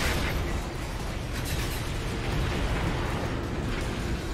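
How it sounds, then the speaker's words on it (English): Dense, continuous rumbling explosions from the Earth Defense Force video game, a steady loud wall of overlapping blasts and bursts with no gaps and no talk. "There are so many explosions on my screen."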